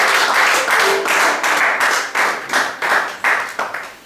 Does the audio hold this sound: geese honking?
no